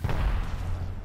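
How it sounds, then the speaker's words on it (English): A single deep, muffled boom from a grenade exploding in the Apex Legends video game, heavy low rumble decaying over about a second. "I'm shooting a grenade."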